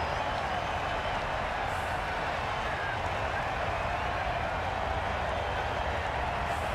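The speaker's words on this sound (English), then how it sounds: "the crowd have joined the party. It's pretty noisy in the ground." Dense, roaring crowd noise fills a cricket stadium in Jaipur during an IPL match between Chennai Super Kings and Rajasthan Royals, a constant loud wash of cheering and clapping with no break.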